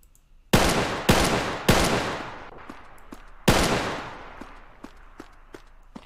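Light machine gun in the game Crossroads Warfare firing slowed single shots: four loud, sharp reports spaced about a second apart with a gap before the last, each trailing a long echoing decay, followed by faint clicks.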